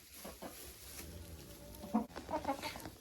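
A hen clucks on the floor of a poultry house, a few short clucks near the end after quieter rustling and background hum, moderately close but not loud.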